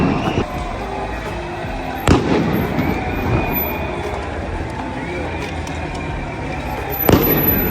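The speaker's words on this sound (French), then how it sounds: "Carrément feu d'artifice et tout." Fireworks burst outside at night after a football match win, with two sharp, loud bangs standing out over a constant rumble of distant explosions and street bustle.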